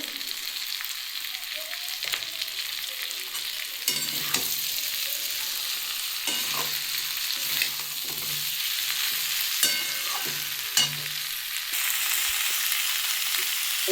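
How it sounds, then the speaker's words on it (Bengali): Cauliflower and potato sizzle steadily while frying in a pan, and a spoon stirs and taps against the metal at intervals over the constant hiss, with no voices. "দেখুন আমার ফুলকপিটা দিয়ে কষানো হয়ে গেছে"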